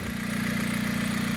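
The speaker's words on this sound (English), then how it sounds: "You hear an excess loud noise, it's because the exhaust is off" Dodge Caliber engine running with the exhaust removed after a spark plug and coil replacement, a loud, steady low idle drone with a throbbing pulse, close and alone.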